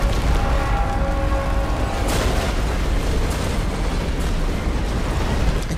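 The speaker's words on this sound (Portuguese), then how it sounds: "As explosões, mano." Explosions in the Stellar Blade video game, a continuous barrage of loud, rumbling booms and bursts layered over each other with deep low-end weight and no pauses.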